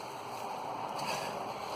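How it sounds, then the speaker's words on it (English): Water steadily poured into a garden bee bath filled with green and clear glass beads, a continuous splashing wash held at an even level throughout. "we're just going to fill this with water."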